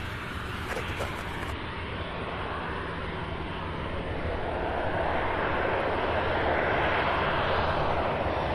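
Delta airliner taxiing to the terminal, its engines giving a loud, continuous broadband roar that grows gradually with a faint hiss of wind.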